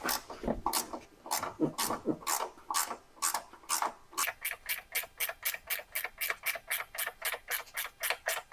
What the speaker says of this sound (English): we're going to have to use a ratchet wrench on that one